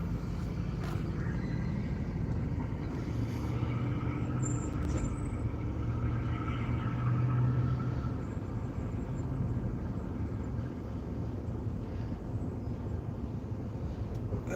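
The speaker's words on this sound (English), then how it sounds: "Sounds like a car went by, but there's like a squealing." A car passes by on a mountain road, its rumble rising and fading at moderate distance, with a brief high squeal from the brakes partway through.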